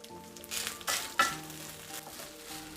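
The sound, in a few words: stirring lamb pilaf in a pot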